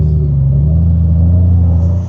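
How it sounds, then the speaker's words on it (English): Honda Gold Wing motorcycle engine idling steadily at close range, a smooth, even low rumble with a constant hum that holds throughout and trails off slightly at the very end, with no voices. "It's amazing how the engine sounds so different when you don't have earplugs in"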